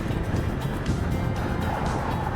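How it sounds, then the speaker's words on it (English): Saturday morning city traffic in Chiang Mai makes a steady, close rumble of engines and tires passing by. "look at the amount of traffic in this city"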